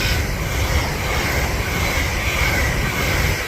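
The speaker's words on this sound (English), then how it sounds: "A train!" A train rushes past close by on a railway line beside a coastal trail, a steady, loud broadband roar of wheels and engine held throughout without a break.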